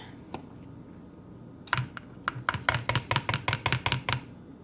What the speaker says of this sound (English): we're shaking up the mushroom pieces in the flour to get them good and coated with flour before we cook them